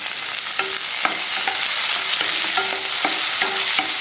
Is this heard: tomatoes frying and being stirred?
yes